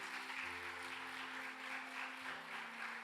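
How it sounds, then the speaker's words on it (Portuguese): A church congregation claps for two newcomers, a faint, steady patter of many hands carrying on beneath sustained keyboard tones. "Uma salva de palmas ao Senhor pela vida delas."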